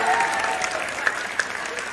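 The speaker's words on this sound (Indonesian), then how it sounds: "Sebentar, yang setuju dengan pernyataan ini tepuk tangan" A seminar audience breaks into brief applause in agreement with a statement, a dense, close patter of clapping with a few sharper claps standing out over two seconds.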